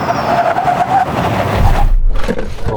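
A heavy Hyundai Ioniq 9 brakes hard from 60 mph. Loud road and tyre roar carries a thin squeal that fades, then a deeper rumble follows as the car settles.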